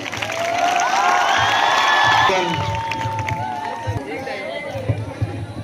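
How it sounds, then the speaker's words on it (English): Students at a Teacher's Day celebration burst into loud cheering and shouting that swells for about two seconds, then fades into crowd chatter and scattered claps as a voice talks over it. "everyone give a huge round of applause for this one sir"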